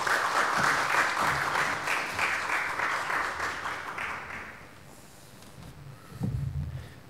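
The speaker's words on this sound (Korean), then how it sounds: "우리 박수로 환영해 주십시오." A church congregation claps to welcome a missionary to the pulpit, starting full and gradually fading out, followed by a few faint bumps and handling sounds near the microphone.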